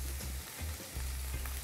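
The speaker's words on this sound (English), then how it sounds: "Now I'm going to take my meat and put it in my pan. Listen to that nice sizzle." Meat sizzling in a hot pan just after being laid in, a steady crackling fry with a few bursts of spatter, close and alone without talk.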